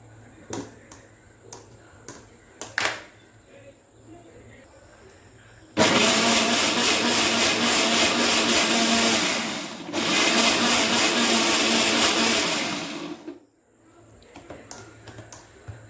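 A kitchen blender roars loudly for about eight seconds, grinding mango with sugar and milk for mango payasam, with a short dip midway before resuming, framed by quieter clicks and handling sounds before and after.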